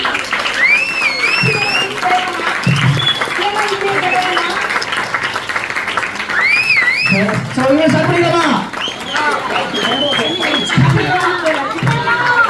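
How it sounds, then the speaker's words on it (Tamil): An audience at a stage event claps and cheers loudly and continuously, with sharp piercing whistles rising above the steady applause and crowd noise. "உங்களோட விசில் சத்தம் கைத்தட்டல் சத்தம்"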